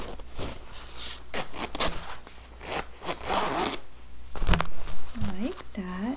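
Repeated zipper pulls on a waxed canvas laptop sleeve being sewn, several quick rasping strokes close up, with a longer run of zips near the end and brief talking in between.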